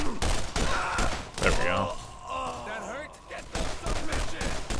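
Gunfire in the video game Borderlands, Game of the Year Edition: a fast burst of loud, punchy shots crackling over game effects and swooshes, with someone speaking briefly between volleys.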